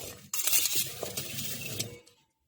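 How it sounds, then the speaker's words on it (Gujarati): Raw mango pieces are mixed with turmeric and salt for a sweet-sour pickle, a loud, close scraping and stirring with light clinks against the bowl that lasts about two seconds, then stops to silence. "હવે આપણે એને સરસ મિક્સ કરી દઈશું જેથી એનું પાણી બધું છૂટી જશે"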